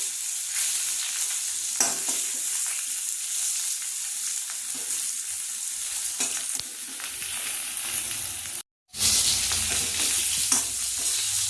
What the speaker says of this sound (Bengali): বেগুনটাও ভাজা ভাজা হয়ে গেছে।